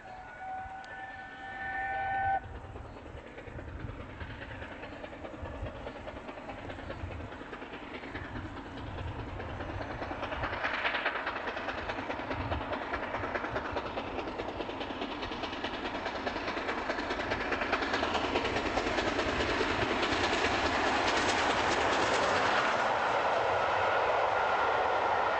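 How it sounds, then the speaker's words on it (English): A steam locomotive hauling Pullman cars rolls past at a distance, its rumble and rhythmic rail clatter slowly growing louder; a brief whistle-like tone sounds at the start. "An apple green Pacific at the head of a set of gleaming Pullman cars."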